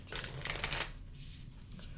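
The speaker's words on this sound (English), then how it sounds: "They come out, they get shuffled again." Tarot cards shuffled by hand during a full moon reading, a soft papery riffling and sliding up close that fades into quieter rustles, with no talking.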